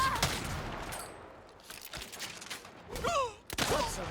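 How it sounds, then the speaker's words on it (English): Gunfire in the video game Saints Row, a short burst of rapid shots followed by a couple of separate bangs with ringing, mechanical clicks, fairly loud and with no talking. "Fine shooting."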